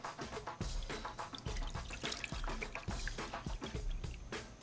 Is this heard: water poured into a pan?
yes